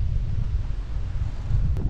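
Strong wind gusts at a lakeside tent campsite in the hills of Munnar, a loud, continuous roar buffeting the microphone with no voices.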